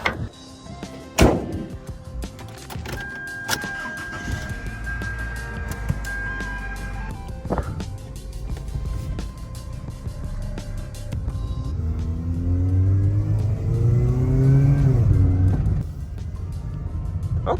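An old $500 car has its door thunk shut, then the engine starts and the car pulls away on a test drive, with a steady mid-level rumble and rising revs as it accelerates.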